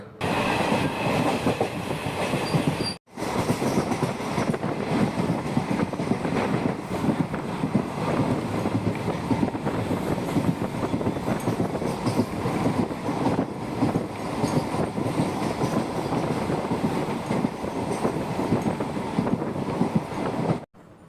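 Jan Shatabdi Express passenger train running between Mayiladuthurai and Coimbatore near Kumbakonam, recorded from on board: a continuous loud rumble with rhythmic wheel clatter and wind buffeting, briefly cut out once.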